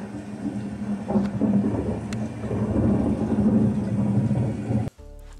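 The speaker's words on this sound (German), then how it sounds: "Lass mal ein Gewitter anmachen." Thunderstorm sound effect playing from a homemade cloud lamp, a steady loud roar of rain and rumbling thunder with a couple of sharp crackles, cutting off abruptly near the end, followed by a faint tonal hum.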